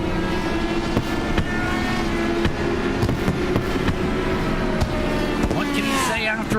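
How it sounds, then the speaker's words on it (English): Fireworks crack and pop repeatedly over the Iowa Speedway after a stock car race, sharp bursts at irregular intervals and a crackling shower near the end, all under continuous commentary and engine rumble. "the fireworks go off in the literal sense"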